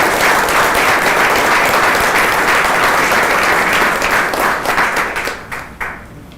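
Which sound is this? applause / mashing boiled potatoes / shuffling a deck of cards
applause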